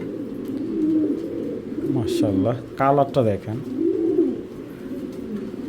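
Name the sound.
racing pigeons cooing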